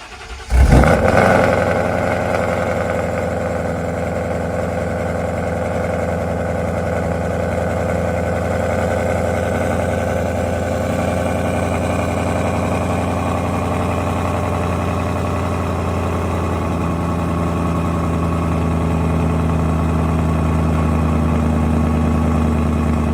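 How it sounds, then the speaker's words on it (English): A Whipple-supercharged car engine cold-starts in quiet mode with a sharp burst, then settles into a loud, steady, deep idle that drones on close by without a break. "It's like 4 a.m. in the morning, so it's going to start up in quiet mode"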